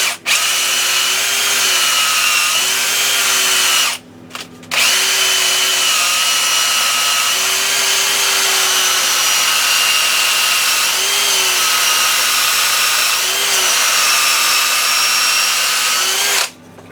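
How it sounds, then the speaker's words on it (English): A power drill bores steadily into a wooden fishing float to make room for lights, running loud and continuous with two brief pauses, the motor pitch wavering slightly as it cuts. "We gotta drill this out so we can put some lights in it."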